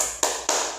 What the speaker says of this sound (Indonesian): Kita ice breaking, tepuk semangat aja deh.